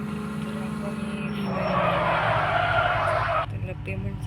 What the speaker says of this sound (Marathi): आपण आता टेस्ट ड्राईव्ह इको ही गाडी एकदम स्मूथ चालते.